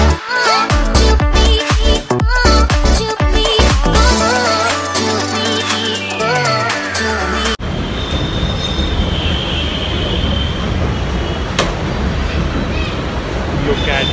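A metro train rolls loudly along its rails with heavy rhythmic clatter, squealing wheels and a falling whine. Then it settles into a steady rumble inside the carriage.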